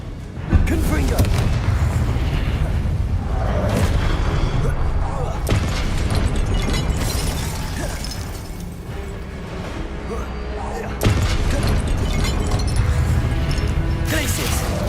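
Casting Confringo in Hogwarts Legacy sets off booming, crashing blasts; several loud impacts burst out amid a dense, rumbling game soundscape, with a strong hit early and another near the end.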